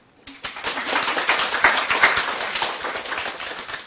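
An audience at a talk by a doctor breaks into clapping, a dense steady patter of many hands that starts abruptly and carries on loudly throughout.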